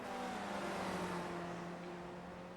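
An iRacing SRF race car on the final lap at Zandvoort holds a loud, steady engine drone with a sustained high whine, heard up close from the driver's seat with no talk.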